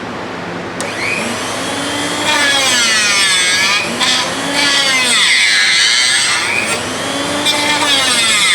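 A drill bit sharpener grinds a bit with a loud, steady motorized whine and abrasive rasp, rising and falling in pitch in repeated sweeps as the bit is worked, close and continuous.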